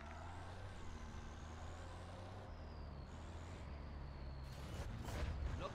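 Vehicle driven in Call of Duty MW3 Zombies, a steady low engine drone with continuous road rumble, a faint whine and hiss rising above it, and a louder burst of noise near the end.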